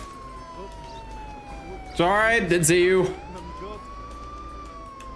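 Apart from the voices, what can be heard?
police car siren in video game Contraband Police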